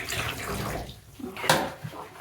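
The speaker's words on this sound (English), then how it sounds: "I will try and give it a good rinse." Ice-dyed cotton yarn is rinsed under running water, a rushing, splashing flow that dips for a moment and then surges again, close and without speech.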